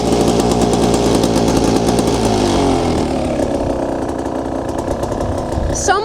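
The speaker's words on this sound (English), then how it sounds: "So I'm just giving it just a little bit of throttle to prevent fouling a spark plug." A cold two-stroke dirt bike engine warms up with a little throttle, a loud raspy buzzing drone that rises slightly and then eases back to a steadier idle, close and continuous throughout.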